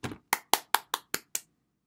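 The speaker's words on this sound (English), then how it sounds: "time to clap for this excellent, fun book, Animal Shapes" Hands clap about six or seven times in a steady, even rhythm after a picture book called Animal Shapes is finished, each clap crisp and close, with no talking.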